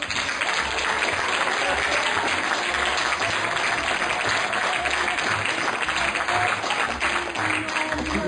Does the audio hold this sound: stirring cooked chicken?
no